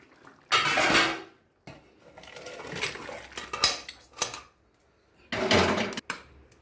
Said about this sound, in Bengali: আমি ঢাকনাটা দিয়ে দিচ্ছি